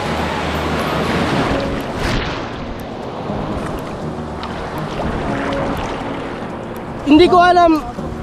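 Strong ocean waves roll and wash at Nasugbu beach in Batangas, a steady loud surf roar with wind filling the whole span, and a brief louder burst near the end.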